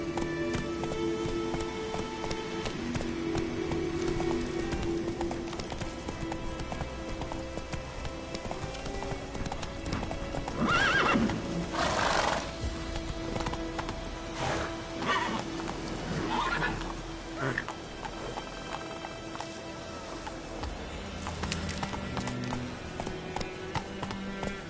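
Roach the horse from The Witcher 3 gallops with steady, rhythmic hoofbeats and lets out several loud whinnies midway, with some rain-like ambience behind.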